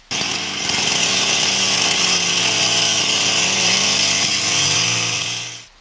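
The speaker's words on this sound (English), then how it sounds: "Tom nodded and fired up the chainsaw" A chainsaw roars loud and close, cutting through fallen branches in a North Cascades forest with a steady, buzzing drone and slight pitch wavers as the blade bites, then cuts off at the end.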